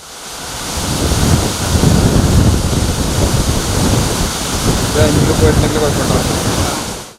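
Water released through the raised shutter of Vazhani dam rushes into the river in a steady, loud roar of churning flow, continuous and broadband, with a few faint higher tones near the end.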